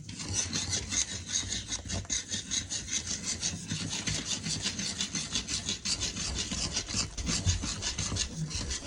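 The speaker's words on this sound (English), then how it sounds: "now I'm just going to stir all of this together" Sourdough ingredients of flour, water and salt being stirred with a Danish dough whisk, giving a continuous rhythmic scraping and rubbing against the bowl, close and moderately quiet, with no speech.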